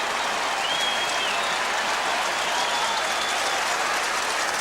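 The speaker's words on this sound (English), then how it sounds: "Drew, the crowd are responding." A large football crowd at a 1987 VFL match between Carlton and Fitzroy applauds steadily, a dense, continuous roar of clapping and cheering that fills the whole stretch.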